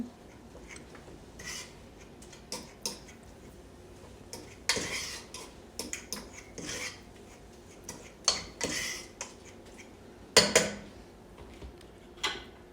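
Ground turkey for keto chili being stirred with a utensil in a metal pot, scattered close scrapes and sharp clinks against the pot at an uneven pace, no voice.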